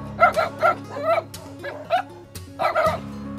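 Dogs at a landfill bark, yip and snarl in a territorial fight after a lone dog wanders in, with several loud, overlapping bursts of barking over a continuous low rumble.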